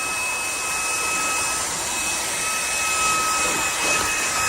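A cordless stick vacuum cleaner running at a higher power setting, a loud steady high-pitched whine and airy suction roar with a constant tone, close and alone.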